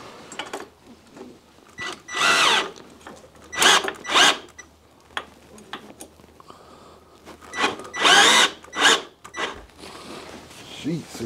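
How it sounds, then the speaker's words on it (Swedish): A Ryobi power drill set to screwdriver mode drives screws in several short whirring bursts, some clicking and ratcheting, loud and close, with pauses between them. "Ja, men växla ner den till skruvdragarläge."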